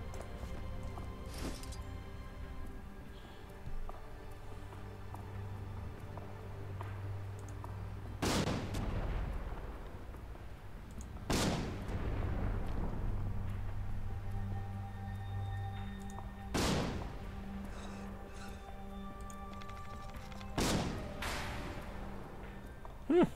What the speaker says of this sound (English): This would be the siege weapon practice range.